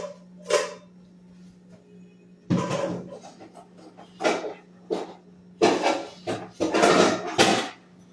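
An old cooking pot is pulled out and handled in a home kitchen, with several separate metallic clanks and knocks in irregular bursts, close and fairly loud, the later ones clustering quickly together.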